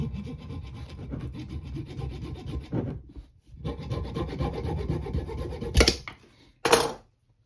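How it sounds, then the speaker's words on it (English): Small hacksaw cutting through a piece clamped in a vise, giving steady rhythmic rasping strokes for several seconds, a brief pause, then more sawing that ends in a couple of louder final strokes. "I'm going to take a small hacksaw and just kind of cut that off"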